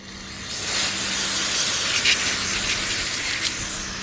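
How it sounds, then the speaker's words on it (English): A steady aerosol spray hisses for several seconds up close, one continuous burst with slight flutters. "And spray them all down."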